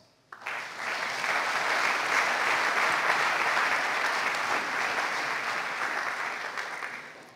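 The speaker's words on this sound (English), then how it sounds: "I would ask you for one big applause" An audience at a startup conference opening greets guests on stage with one big round of applause, dense even clapping that starts abruptly and holds steady before tapering slightly.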